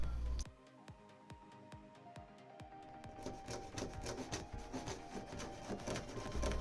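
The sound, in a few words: cutting acrylic one-way mirror sheet into squares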